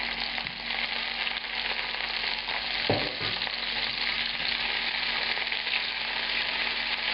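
Tomatoes sizzle steadily in a generous pour of hot olive oil in a pan for a puttanesca sauce. The frying stays loud and even throughout, with one brief clatter near the middle and no talking.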